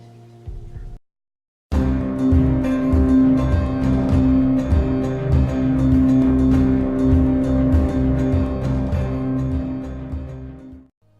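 A car engine in the Before the Storm video game drones loudly and steadily with a rough, buzzing tone for several seconds after a brief silent gap, then cuts off.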